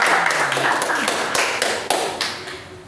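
Applause for group 5 in a classroom gathering comes as a few scattered, sharp claps and taps, sparse and uneven, with voices talking faintly over them.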